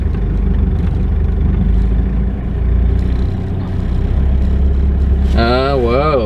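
Toyota LiteAce 4WD diesel JDM camper van engine idling, a close, steady low rumble that holds even throughout before a sudden warbling, rising tone cuts in near the end.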